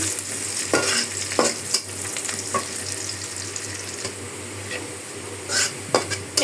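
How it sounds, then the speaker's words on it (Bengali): Onion and cinnamon fry in a wok for a chicken dish, giving a continuous close sizzle broken by several sharp scrapes and clanks of stirring against the pan; no one speaks. "তার জন্য আমি কড়াইতে দিয়ে দিলাম পেঁয়াজ আর দারুচিনি"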